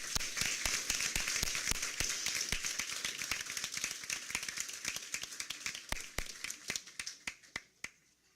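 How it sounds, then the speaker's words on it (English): An audience at a school district board meeting applauds a Title I elementary teacher with a close, brisk run of many individual claps that thins out and stops near the end. There are no voices. "please applaud Julie for her recognition"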